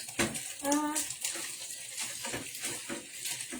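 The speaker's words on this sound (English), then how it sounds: "just rinse your meat" Tap water runs steadily while thawed frozen meat is rinsed at a kitchen sink, a soft splashing wash under a voice and other chatter.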